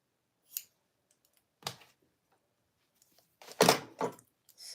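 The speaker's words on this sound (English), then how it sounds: "You do want to cut this seam allowance down" Scissors snipping through the fabric seam allowance of sewn cargo pants, a few separate close cuts with pauses between them and a busier burst of snips near the end, no talking.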